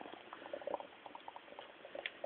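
Water bubbles and crackles at a steady boil inside a homemade HHO steamer, a soft close-up patter of small pops and fizzing with no voices.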